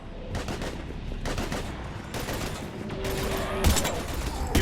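Gunfire in Mass Effect Legendary Edition comes as repeated loud bursts of rapid shots with short pauses between them, plus a sharp tone and impacts near the end. No one speaks.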